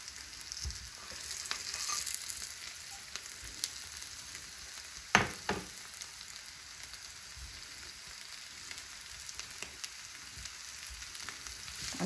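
Potatoes sauté in masala over a low flame, a soft continuous sizzle with occasional stirring and one sharper utensil knock, quiet and without talk.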